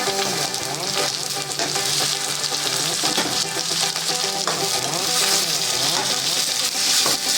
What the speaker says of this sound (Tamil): அதை போட்டு நல்லா வதக்கிடுங்க. நல்ல தக்காளி கரையிற வரைக்கும் நல்லா வதக்கிடலாம்.